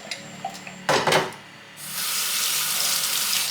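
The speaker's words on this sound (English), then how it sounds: "When the shrimp is cooked, we can rinse them through cold water" Cold tap water runs into a kitchen sink over cooked shrimp after a few small clinks and a brief clatter, then flows as a steady, close rush of water to the end.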